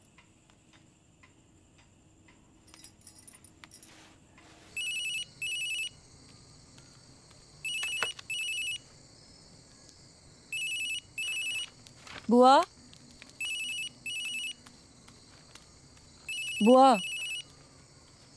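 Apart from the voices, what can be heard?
mobile phone ringing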